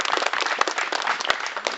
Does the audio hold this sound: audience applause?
yes